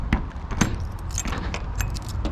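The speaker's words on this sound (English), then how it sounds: "get the keys out" Keys jangle as they are pulled out beside a 2001 Toyota Tacoma 4x4 pickup, giving a few close, bright metallic clinks and rattles in short bursts over a low background hum.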